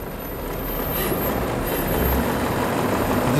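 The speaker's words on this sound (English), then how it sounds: "Most of what you can hear is the fan." A 1919 engine runs very quietly, its cooling fan making a steady, soft whirring hiss that holds evenly throughout with no talking.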